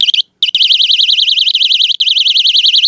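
A dollar store door alarm sounds at full volume, a loud, continuous warbling electronic siren that wavers rapidly up and down, with brief cutouts near the start and one short break partway through.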